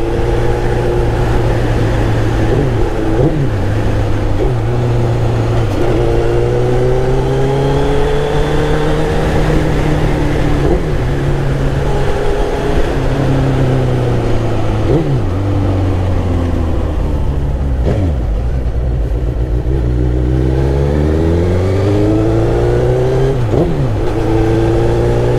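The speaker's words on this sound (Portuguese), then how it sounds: "Eu tô com a viseira aberta, galera, vai vir vento pra caramba pra vocês aí." Wind rushes into an open helmet visor on a moving motorcycle, a constant loud buffeting mixed with the engine's rising and falling revs as the rider shifts, close and continuous.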